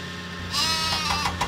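Cartoon sheep bleat in a Thomas & Friends railway video game, a few short wavering bleats following one another over a quiet background with no talk.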